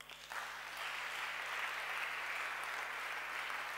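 A church seminar crowd applauds and cheers in a steady, dense wash of clapping that holds evenly throughout without pause.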